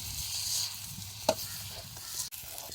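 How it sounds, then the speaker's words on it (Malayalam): Flattened rice (aval) stirred in a pan with overripe banana, giving a crisp, rustling sizzle throughout, with one sharp spoon clack and a brief knock near the end, no talking. "അവലിട്ട് കഴിഞ്ഞാൽ അതിങ്ങനെ ക്രിസ്പി ആയിട്ട് ഒരു ശബ്ദം ഇങ്ങനെ കേൾക്കും ഇളക്കുമ്പോൾ"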